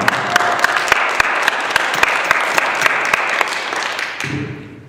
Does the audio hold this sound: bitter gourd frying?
no